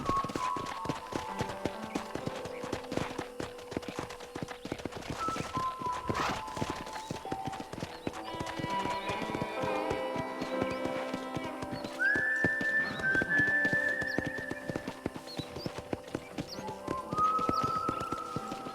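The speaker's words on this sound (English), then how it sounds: "let's see if you can still ride a horse" Rhythmic clip-clopping horse hooves trot steadily throughout, broken by a couple of loud neighs and whinnies, with soft game music underneath, from the video game Red Dead Redemption.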